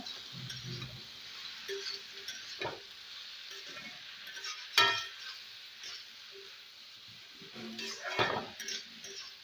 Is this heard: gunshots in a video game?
no